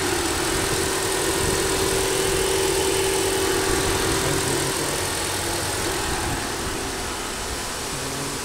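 A 2025 Ford Taurus hybrid with a 2.0 engine idles steadily, a constant low hum and broadband whir held at even loudness throughout, with no talking.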